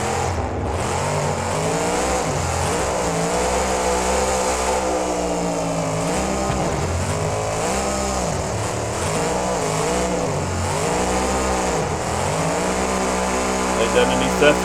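Identity Theft monster truck in BeamNG spins donuts on the Allegiant Stadium floor, its engine droning loudly and cycling up and down in steady waves as it circles, with a commentator talking over it.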